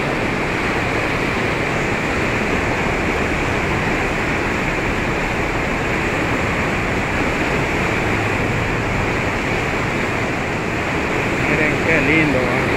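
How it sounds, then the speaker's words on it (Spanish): Swollen river in flood rushes past in a steady, loud, unbroken roar of churning water, with a voice speaking faintly over it. "estamos en este lugar bonito, viendo esta crecentada de agua que está bajando"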